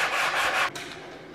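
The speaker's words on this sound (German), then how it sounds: "wenn wir es jetzt schleifen, müsste es gut sein." Sandpaper rubbing over a filled joint in decorative plaster ceiling molding, a close, steady scratchy rasp that stops abruptly partway through, leaving a quieter hiss.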